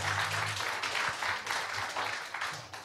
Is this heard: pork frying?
no